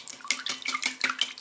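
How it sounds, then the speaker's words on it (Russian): Two eggs, sugar and milk being whisked in a bowl for French toast, with quick rhythmic sloshing and clinking strokes about five times a second, close and moderately loud. "И все хорошо взбиваем."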